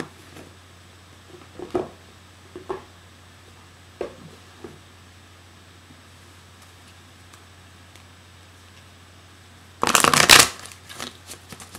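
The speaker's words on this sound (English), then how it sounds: "I'm going to pull a dragon card next." Oracle cards are shuffled by hand before a dragon card is pulled: a few soft, scattered riffs and taps, then a short, loud burst of rapid shuffling near the end, close and otherwise quiet.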